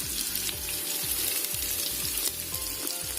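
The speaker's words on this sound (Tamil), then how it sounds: "ஸோ வெங்காயம் நல்லா வதங்கிட்டுருக்கு." Onions sizzle and fry in a pan for chicken biryani, a steady close crackle with repeated scraping stir strokes roughly every half second.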